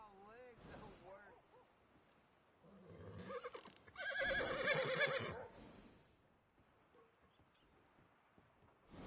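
In a PS4 video game, a horse gives a loud, drawn-out whinny in the middle of the stretch, with shorter snorts and neighs before it, while game characters talk in places.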